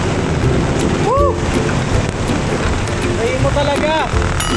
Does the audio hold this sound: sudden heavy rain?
yes